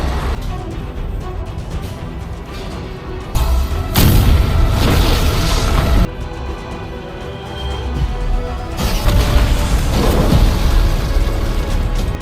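Loud booming blasts burst out in waves over a dense roaring rumble, with heavy low-end surges that swell and fade.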